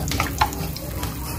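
Cooking oil in a pan for frying eggs, giving a brief, close, steady hiss and sizzle with a light clink near the start.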